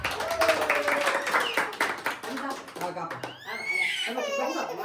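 A family birthday celebration in Gujarat, India, with people clapping in a rhythmic burst after the birthday song, mixed with children's voices and giggles, then squeals and chatter as the clapping fades.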